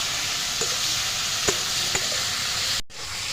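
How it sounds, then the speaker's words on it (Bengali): Kashmiri chilli powder, ground black pepper and other spices frying together in a pan for a chicken curry, a steady close sizzle broken by a few sharp scrapes of stirring, then a brief gap. "কাশ্মীর গুঁড়ো লঙ্কা সব আমি একসঙ্গে কষিয়ে নেব ভালো করে"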